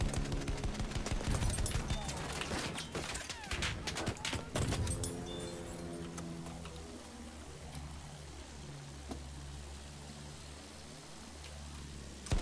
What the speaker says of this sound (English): Damn, the infantry fire is strong